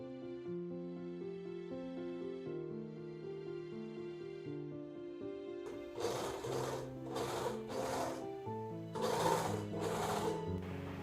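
A sewing machine stitching the front and back pieces of a dress together, several short bursts of rapid mechanical whirring in the second half, heard over soft background piano music.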